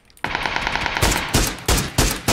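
Loud automatic gunfire in the video game PUBG rattles out in rapid close-range bursts, a continuous stream of sharp shots followed by a few heavier separate cracks.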